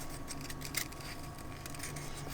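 Scissors snip through pipe cleaners while pumpkin shapes are being crafted, giving one crisp, close cut in the middle of a steady low room hiss.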